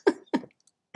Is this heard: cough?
yes